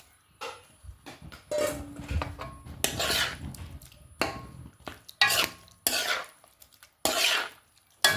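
A spoon scrapes and stirs chopped vegetables and sardines in a cooking dish in repeated short bursts of scraping and clinking with quiet pauses between, close and fairly soft, with no speech.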